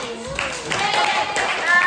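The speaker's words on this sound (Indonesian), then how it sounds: "tepuk tangan untuk Tari" A group clapping steadily for a couple of seconds, dense and fairly loud, with voices mixed in underneath.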